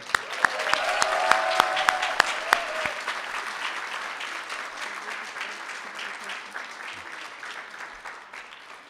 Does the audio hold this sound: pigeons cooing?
no